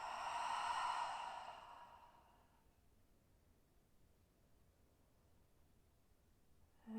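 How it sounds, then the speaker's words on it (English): One long exhaled sigh follows a deep inhale during a calming breathing exercise, a soft airy breath that swells and fades within two seconds and leaves near silence. "And sigh out."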